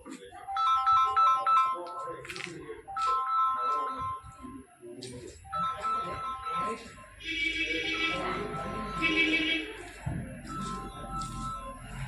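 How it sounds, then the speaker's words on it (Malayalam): A phone ringtone plays repeated melodic electronic tones at a Gandhi ashram, loud and near, pausing briefly between bursts while voices talk over it. "അവര് ഫോൺ അടിക്കുന്നുണ്ട്"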